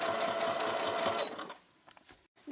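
Sewing machine stitching fabric for a Japanese kinchaku rice bag, starting at the edge: a steady, close motor whir runs for about a second and a half, then stops. A few faint handling clicks and rustles follow.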